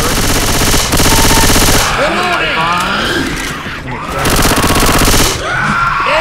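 Rapid automatic gunfire from the Left 4 Dead 2 Minecraft mod rattles in loud sustained bursts with short gaps, while players talk and shout over the shooting.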